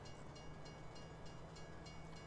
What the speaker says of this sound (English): I wonder if I can move the train